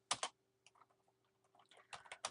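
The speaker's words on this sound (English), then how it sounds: "Now, we're going to type in" Keystrokes on a computer keyboard come in quiet, close clicks, a quick pair at the start, scattered light taps in the middle and a faster burst at the end.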